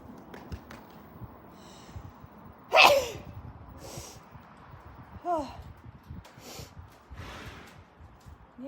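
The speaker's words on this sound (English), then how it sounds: "Yeah, I'm sneezing too." A person sneezes during a horse-riding lesson with one sharp, fairly close burst, followed later by a softer snort-like breath, against quiet background rustle.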